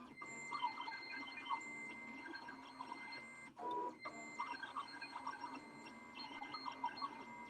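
A Siser Romeo cutting machine cuts a photo jigsaw puzzle, whirring with repeated chirpy motor tones and mechanical movements that sound much like a printer, broken by a short shuffling noise in the middle, fairly faint throughout.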